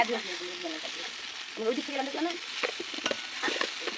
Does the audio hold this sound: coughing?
no